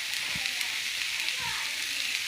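Finely chopped onions fry in oil in a frying pan, a steady hissing sizzle with a few faint stirring taps.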